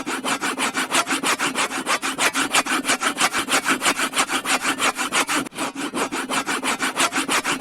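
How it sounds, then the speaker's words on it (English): A hand saw cutting through wood in steady, rapid back-and-forth strokes, loud and close, with one brief pause before the rhythm resumes. "let me just try sawing the wood."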